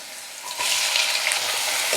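Chopped onions sauté in hot oil for a Tamil brinjal kulambu, giving a steady, bright sizzle that jumps louder after a half-second and holds close and even, with no one speaking.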